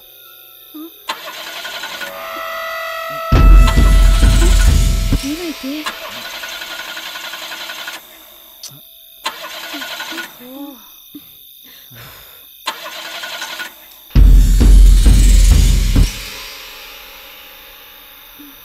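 A car engine cranking but failing to start: two loud grinding bursts of starter churning a few seconds each, separated by quieter stretches in which people talk, with no engine catching afterward.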